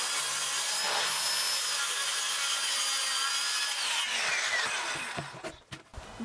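A piece of plywood is sawn with steady, rasping strokes that run continuously and fairly close, then break into a few uneven scraping pushes near the end, with no talking.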